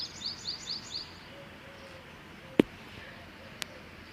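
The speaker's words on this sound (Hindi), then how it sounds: "सुबह सुबह की चिड़ियों की चहचहाट" Early-morning birdsong outdoors: a quick series of four high chirps opens, then fades, followed by a couple of sharp knocks against a quiet background.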